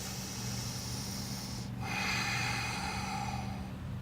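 A slow, audible inhale through the nose during a gentle beginner yoga practice, soft and close over faint room hum, with a steady airy rush and no talking.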